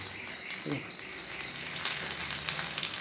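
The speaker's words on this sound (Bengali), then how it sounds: "দেখো ছেটকাচ্ছে তেলটা, ভালো করে হচ্ছে, ভাজা হয়ে যাবে, ছেটকাতে শুরু করেছে।" Tender pumpkin flowers fry in hot, spattering oil, making a soft, close sizzle with small crackles throughout a brief moment.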